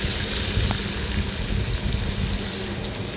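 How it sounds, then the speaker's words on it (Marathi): Finely chopped onion frying in hot oil with asafoetida for a tondli (ivy gourd) stir-fry, a dense, even, hissing sizzle heard up close and fairly loud, with no talking. "आता कांदा आपल्याला व्यवस्थित परतून घ्यायचा आहे"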